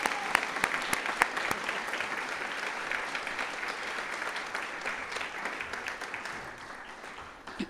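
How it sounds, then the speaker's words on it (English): An awards ceremony crowd applauds steadily and enthusiastically, with dense clapping that holds up for several seconds before tapering slightly at the end. "please offer another rousing round of applause"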